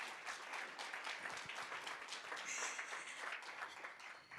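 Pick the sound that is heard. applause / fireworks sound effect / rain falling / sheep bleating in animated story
applause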